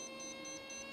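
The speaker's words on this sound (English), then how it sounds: "There's my landing alarm going off on my watch." Landing alarm on a wristwatch, heard outdoors during a model airplane flight test: a rapid series of high, regular electronic beeps over a steady hum, faint and continuous.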